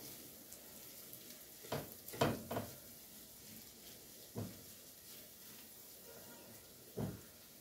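Sweet peppers sprinkled with salt fry in a pan with a soft, steady sizzle and hiss, broken by a few faint clinks and scrapes as they are stirred.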